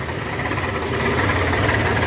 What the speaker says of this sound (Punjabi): ਆਪਣਾ ਦੂਜਾ ਟਰੈਕਟਰ ਵੀ ਆ ਗਿਆ ਉਹ ਦੇਖ ਲਓ ਤੇ ਮਸ਼ੀਨ ਵੀ ਆ ਜਾਂਦੀ ਆ